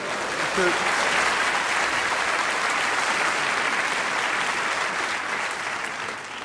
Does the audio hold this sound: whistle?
no